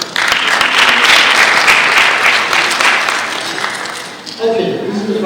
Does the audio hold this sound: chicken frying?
no